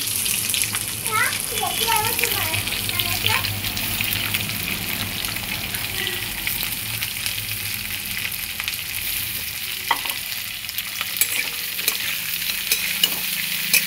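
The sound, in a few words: stirring cauliflower paratha filling frying in pan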